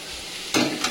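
Rohu fish frying with bitter gourd and spices sizzles in a pan, then a spoon stirs it partway through, bringing a louder, scraping burst of crackle close by.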